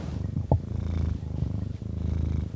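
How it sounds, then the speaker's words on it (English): A cat purrs steadily up close with a continuous low rumble, a brief brighter sound breaking in near the start. "you can hear his purrs so well"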